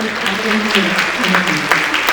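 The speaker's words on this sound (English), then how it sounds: "Let's give her a round of applause." Library conference attendees clap in a steady, moderately loud ripple that runs the whole short moment, with a faint voice underneath.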